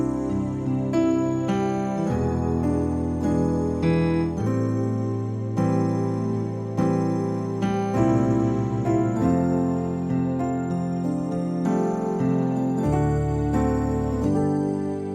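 Gospel piano plays a chord progression with secondary dominant passing chords, sustained rich chords changing steadily in rhythm, solo and close with no talk.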